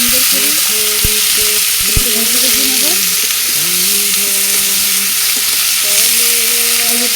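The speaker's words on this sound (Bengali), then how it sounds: "এইভাবে নাড়ি ফেড়ে কিছুক্ষণ ভেজে নেব" Bananas frying and being stirred in a pan, with a steady loud sizzle and repeated scraping stirs running throughout; no talk.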